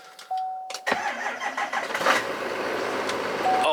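Car engine cranking under a Viking 2000 amp jump starter from Harbor Freight, catching and firing up within about a second, then settling into a steady close idle.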